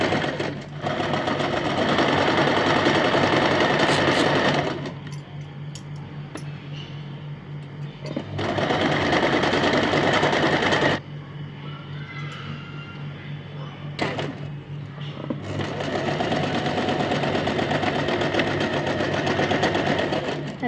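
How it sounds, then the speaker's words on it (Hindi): Sewing machine stitches folded fabric for a bow, running in three loud sustained bursts separated by quieter pauses, close and alone. "अब हम इस पर सिलाई चला देंगे।"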